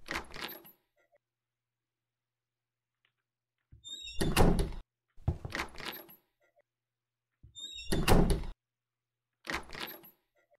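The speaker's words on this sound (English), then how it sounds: "I think it's just the squeak of the door" A door creaks and squeaks in four separate bursts, each with a thunk and rattle, separated by silence, close and fairly loud.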